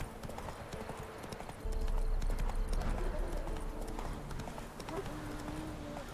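Hooves of a galloping horse in Witcher 3: Wild Hunt pound in a fast, steady rhythm, close and continuous, growing heavier partway through, with faint game ambience and a brief voice underneath.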